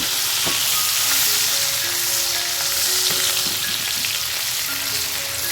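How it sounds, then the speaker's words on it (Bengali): Onion and chopped tomato fry in a pan for an egg curry, giving a loud, steady, close sizzle with faint stirring scrapes throughout. "সেই টমেটো কুচিটা দিয়ে এটাকেও খুব ভালো করে ভেজে নেব"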